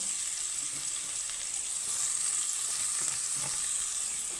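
Chopped onions fry lightly in oil in a pan, making a steady, even high sizzle with faint stirring underneath from start to finish, and nobody speaking.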